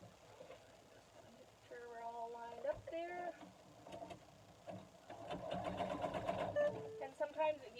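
A sewing machine stitches fabric for a ball snowman in short bursts of whirring, stopping and starting, with a person talking quietly between and over the runs.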